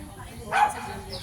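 A dog gives a single short bark, faint and fairly distant, against a quiet background with low rumble.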